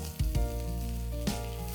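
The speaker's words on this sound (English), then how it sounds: "So I'm going to add a tablespoon of oil to this" Onions, already browned and dehydrated, frying in a tablespoon of oil in a pan, giving a steady close sizzle with a couple of louder crackling bursts as they are stirred.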